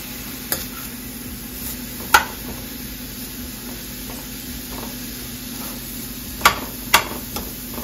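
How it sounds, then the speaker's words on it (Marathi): Coconut burfi mixture being stirred in a kadhai, a soft continuous scraping and faint sizzle punctuated by a few sharp clinks of the spoon against the pan, close and alone. "कढईमध्ये याला सतत असं फिरवत राहा, कारण खालून लागून यायला नको म्हणून."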